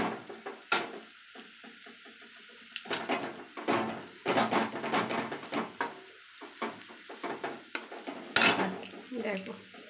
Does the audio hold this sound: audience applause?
no